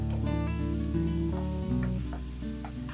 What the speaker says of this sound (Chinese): 倒入肉片，大火翻炒